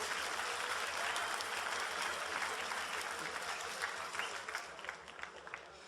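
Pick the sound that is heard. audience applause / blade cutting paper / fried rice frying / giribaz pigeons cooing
audience applause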